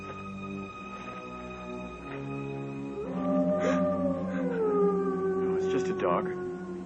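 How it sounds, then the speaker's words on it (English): A dog howls in desolate countryside, a long rising-and-falling wail that swells over several seconds. It sounds moderately distant, with voices talking nearby over a low background rumble. "Dog."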